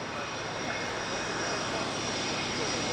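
A Fairey Swordfish biplane at the 2018 Yeovilton airshow runs with a steady, droning piston-engine roar that stays constant throughout.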